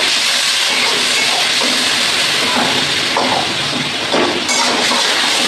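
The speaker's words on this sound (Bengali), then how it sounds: "মশলাটা যাতে পুড়ে না যায় একটু জল দিয়ে দিলাম" Spice paste with a little sugar sizzles loudly in a pan right after water is added, a dense continuous hiss with faint clinks, close up and without talking, while cooking a Bengali potato and pointed gourd curry.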